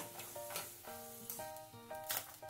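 Farali chiwada ingredients frying on low gas in a home kitchen: a soft, continuous sizzle sits beneath louder melodic background music with sustained notes.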